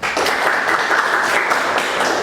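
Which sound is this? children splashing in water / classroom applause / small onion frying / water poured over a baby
classroom applause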